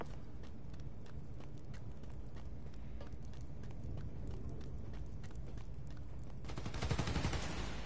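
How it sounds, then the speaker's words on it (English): Gunfire aimed at power transformers in Marvel's Spider-Man: Miles Morales, a steady run of sharp distant shot cracks over a low rumbling bed, building to a louder cluster near the end. "They're shooting transformers?"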